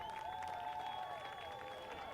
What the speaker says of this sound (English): And the crowd, I hear some cheers.